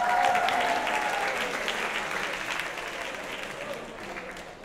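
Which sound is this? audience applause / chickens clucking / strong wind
audience applause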